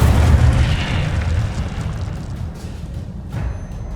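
An Incendio fire spell goes off in Hogwarts Legacy, a loud whooshing boom at the start that rumbles and fades over a few seconds, with smaller pops trailing after.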